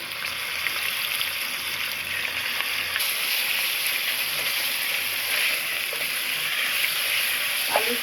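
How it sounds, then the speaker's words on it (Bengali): Boneless chicken pieces frying in a pan with oil while noodles are being cooked, a steady soft sizzle and hiss running evenly throughout at moderate, close volume with no talking. "সাথে চিকেন একটু ভেজে নিচ্ছি"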